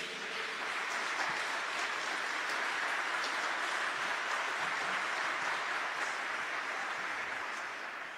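An audience at a Catholic talk applauds in a steady wash of clapping from many hands, which holds evenly throughout and fades slightly at the end.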